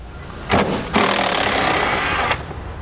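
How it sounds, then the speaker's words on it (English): A power tool whirs on the 8mm wheel liner screw of a 2016 Ford Taurus. It gives a brief burst, then a steady loud run of about a second and a half before it stops, close up and with no talking. "on the inner edge of our wheel liner, there's an 8mm screw we need to remove"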